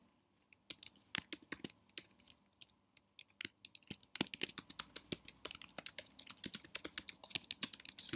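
Java code being typed on a computer keyboard: sparse individual key clicks at first, then a dense, fast run of close, crisp keystrokes.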